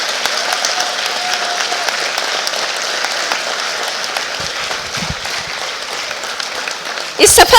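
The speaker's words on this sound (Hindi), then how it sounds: "मित्रों आपको हाँ ताली का जो है सिलसिला चलता रहना चाहिए।" Sustained audience applause follows a Hindi stage play, a dense, steady wash of clapping that runs for several seconds with a voice speaking over it near the end.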